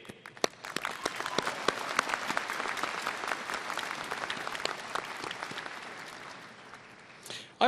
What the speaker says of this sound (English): give a huge round of applause and cheers to your professors and staff